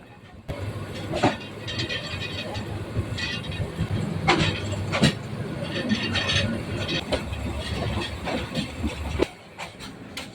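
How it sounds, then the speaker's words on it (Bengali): The Jamalpur Express runs from Dhaka toward Jamalpur, heard from inside the carriage as a continuous rumbling clatter with rhythmic wheel clicks and swells, fairly loud, easing off abruptly near the end. "ট্রেনের ঝকঝক শব্দ শুনতে শুনতেই"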